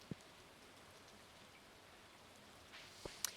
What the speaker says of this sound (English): Oh, it's raining apparently.